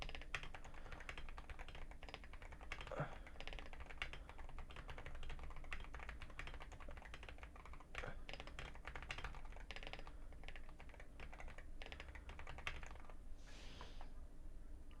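Steady, fast typing on a Wooting 80HE keyboard, a dense run of light clicks and taps heard up close and fairly quiet, with no talking throughout.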